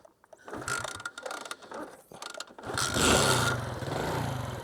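Honda C90 step-through motorcycle kicked over by hand: a series of mechanical clicks and ratcheting clatters from the kickstart, then a louder churning rush of the engine turning over.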